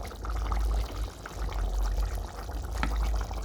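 Water pours steadily into a pot of green vegetables and smoked fish for a stew, a continuous close splashing and gurgling that stays fairly even throughout.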